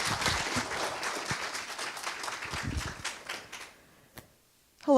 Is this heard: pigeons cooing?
no